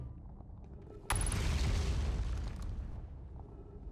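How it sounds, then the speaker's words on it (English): A loud explosion erupts abruptly in the space game Outer Wilds, a sudden broadband boom that holds as a dense roaring rumble for a few seconds before slowly fading, heard alone with no talk. "Not feeling great about all those explosions."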